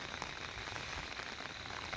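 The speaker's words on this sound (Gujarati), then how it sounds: "આજે ઘણો બધો વરસાદ આવી રહ્યો છે" Heavy rain pours steadily onto a farm field with okra plants and sugarcane, a dense, even hiss of drops that holds at the same level throughout with no voices.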